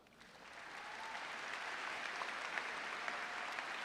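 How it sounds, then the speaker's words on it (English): Graduates and audience at a high school graduation ceremony break into applause, starting softer and building to a sustained, fairly distant wash of clapping with a few sharper claps. "I want everyone to give themselves a round of applause."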